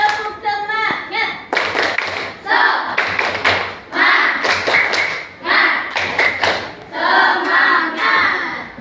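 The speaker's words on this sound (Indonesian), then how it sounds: "kita tepuk semangat dulu ya" Schoolchildren in a classroom perform a patterned spirit clap, loud sharp hand claps and thumps in grouped rhythmic bursts alongside chanting voices.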